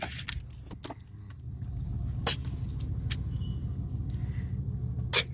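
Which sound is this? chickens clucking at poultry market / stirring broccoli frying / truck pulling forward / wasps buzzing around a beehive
truck pulling forward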